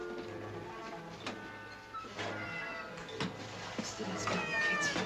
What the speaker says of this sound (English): Leutnant Meyer, fangen Sie mir doch mal die Katze ein.